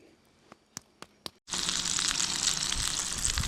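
A few sharp taps, then a sudden loud sizzle as duck skin hits hot fat and keeps crackling steadily up close.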